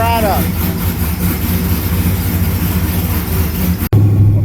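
An LS-swapped 1993 Camaro engine with a TH350 transmission runs steadily at a loud, close idle after sitting for a long time, a continuous low rumble that pauses briefly before resuming.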